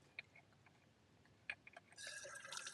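Fresh spring water from a fountain starts flowing partway through, a close, bright splashing stream following a few faint clinks and drips in a quiet outdoor setting.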